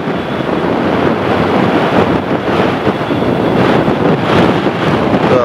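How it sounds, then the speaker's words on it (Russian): Strong wind buffets the microphone in a constant low roar with gusty rumbling and no voices, out in a farm field on a hot day. "Вроде и печет, но ветер сильный."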